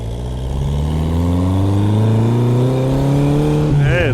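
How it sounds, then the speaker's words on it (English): A car speeds down a street, its engine a loud, steady drone rising in pitch as it accelerates, with wind noise around it, recorded from inside the cabin. "And we are now speeding down the street."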